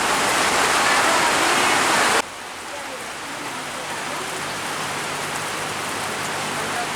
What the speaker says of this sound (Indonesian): makin lebat hujannya